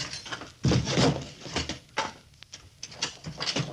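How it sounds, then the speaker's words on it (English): A door opens in an old-time radio adventure drama, a close wooden creak and latch rattle followed by scuffing and shifting bumps, uneven and moderately loud with short quiet pauses. "Then open the door."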